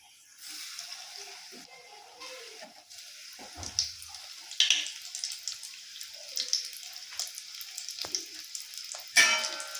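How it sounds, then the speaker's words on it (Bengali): Lotte fish fingers coated in soybean powder sizzle in hot oil, a steady crackle with sharper spits and pops as pieces go in, close and fairly quiet with no talk. "এবার সোয়াবিনের গুঁড়োটা মাখিয়ে নেব এবার তেলে দিয়ে দিচ্ছি"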